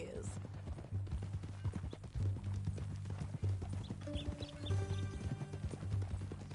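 Steady, rhythmic clip-clop of horse hooves at a walking pace in Red Dead Redemption 2, close by, with faint voices and a low hum underneath.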